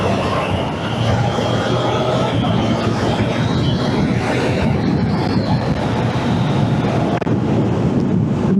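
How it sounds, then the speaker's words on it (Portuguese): A Triumph Trident 660 three-cylinder motorcycle engine drones steadily while riding, a loud continuous hum heavily mixed with wind rush over the helmet. "este motor tricilíndrico que tem um barulho que só vos apetece andar"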